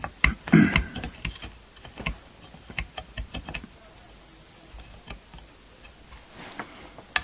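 Cutters snip old frets from a Squier Standard Strat neck, a series of sharp close clicks and snaps at irregular intervals, loudest near the start and thinning out later.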